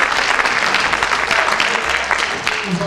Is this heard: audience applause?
yes